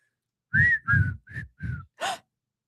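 A person whistles with the mouth in five short, separate notes, the first four tonal and even, the last breathier and higher, close and fairly loud with silence between them.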